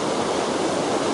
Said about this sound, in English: I think this is the miniature Elephant Waterfall.